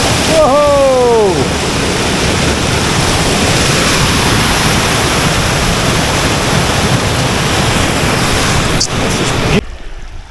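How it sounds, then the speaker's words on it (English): A small waterfall in Glen Douchary in the Scottish Highlands rushes steadily at close range, a continuous broadband roar of falling water with a brief whistle-like chirp near the start before cutting off at the end. "another little waterfall."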